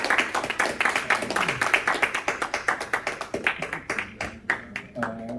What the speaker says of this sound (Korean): 우리 박수로 한번 격려해 주시기 바랍니다